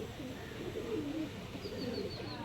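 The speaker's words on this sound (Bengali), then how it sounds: "পুরো অরিজিনাল আন্ধ্রা পায়রা তোমরা দেখতে পাচ্ছ" Andhra pigeons cooing softly in a low, rolling murmur, faint and close, with a few quieter coos overlapping and steady background hiss.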